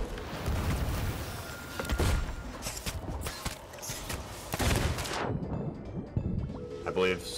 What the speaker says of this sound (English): Strong cannons.